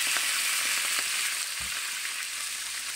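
A pork chop fries in a pan with wine just added, giving a loud, steady crackling sizzle with small pops and a brief thud partway through.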